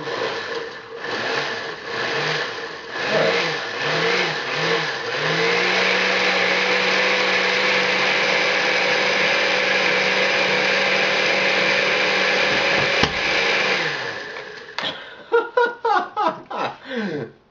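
A blender crushes ice for a smoothie, running with a steady motor whine for several seconds after a few short bursts, then pulsing in quick choppy bursts at the end; loud and close, no talking.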